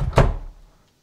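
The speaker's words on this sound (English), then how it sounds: "Shut this door." A door slams shut in the alien-abduction horror game Greyhill Incident, one close, solid thud that rings out and fades over about half a second.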